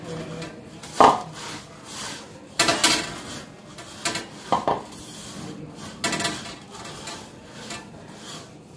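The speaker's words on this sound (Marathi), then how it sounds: "आता हे मिक्स करून घ्यायचे" Karanji filling ingredients being mixed on a metal plate give irregular clinks and scrapes with a few sharp knocks, close and moderately loud.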